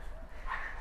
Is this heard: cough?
no